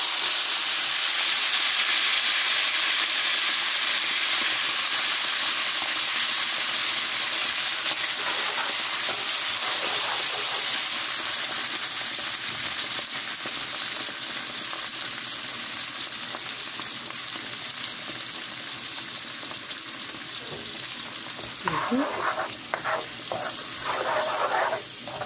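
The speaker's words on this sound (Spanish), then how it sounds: "Que se sofrían un poquitito." Rice and casamiento sizzle and fry in a pan with a steady, loud hiss that slowly eases. A few utensil clinks and stirring sounds come near the end.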